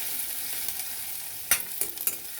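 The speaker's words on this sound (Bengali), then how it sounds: "এটা দিয়ে নাড়তে থাকবো।" Chopped onion and garlic frying softly in a pan for a light curry of fish head and Malabar spinach, with a low steady sizzle and a few stirring scrapes toward the end, with no voices.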